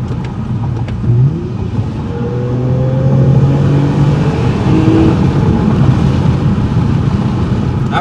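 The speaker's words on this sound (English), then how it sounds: "I'm gonna slow down a little bit so we can downshift and give this thing the beans." A car engine revs hard as it pulls through the gears after a downshift, a loud, sustained roar whose pitch climbs steadily across the whole stretch, with no voices over it.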